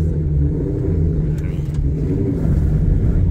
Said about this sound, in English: The car can't get up this area here. It's literally spinning.